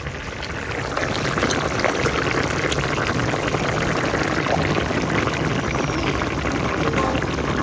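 Hilsa fish heads are tipped into a pot of simmering broth, giving a steady loud bubbling and liquid wash that swells after the first second and runs on without pause.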